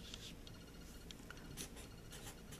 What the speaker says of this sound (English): So let me write that on there.